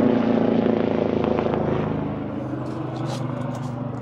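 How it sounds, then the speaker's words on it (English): An air rescue helicopter drones overhead, its low throbbing rotor roar loud at first and then easing slightly as it passes, with no voices. "Helicopter right overhead."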